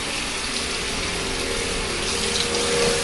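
Water runs steadily from a tap while a make-up brush is swirled and rinsed beneath it, making a continuous close gushing splash.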